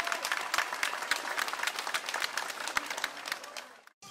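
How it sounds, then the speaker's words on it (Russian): Audience applause for teachers at a school last-bell ceremony: dense, steady clapping from a crowd that holds for about four seconds and then cuts off abruptly. "Аплодисменты для наших дорогих учителей!"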